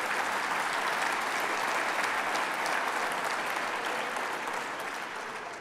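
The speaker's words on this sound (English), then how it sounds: "a big round of applause" An audience at an exhibition launch gives a big round of applause, steady dense clapping heard alone that slowly fades toward the end.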